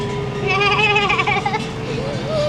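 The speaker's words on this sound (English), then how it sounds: "It's caused by a huge herd of goats." A large herd of goats bleats in wavering, overlapping cries over a steady background hum near Sarandë, Albania, close and fairly loud.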